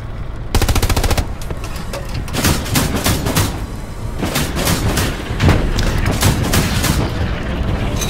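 Sustained bursts of tank machine gun fire in Hell Let Loose, a light tank duel between a Panzer II Luchs and a Stuart, loud rapid rattling runs broken by short pauses and heavier booming shots.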